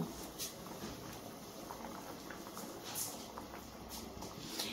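Pulao with shelled peas simmering on a low gas flame, a soft continuous bubbling and faint patter from the pot, steady and fairly quiet throughout.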